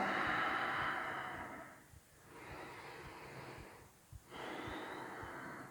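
Deep breaths during a yoga warrior pose, a long slow exhale and inhale cycle, close and soft, repeating about every two seconds with short quiet pauses between, and no talking.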